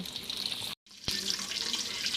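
Chicken pieces drop one at a time into hot white cooking oil, giving a steady bright hiss of frying that cuts out briefly and then resumes with a sharp crackle as another piece goes in.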